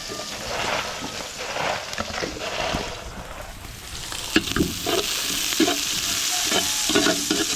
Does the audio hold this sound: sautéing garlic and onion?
yes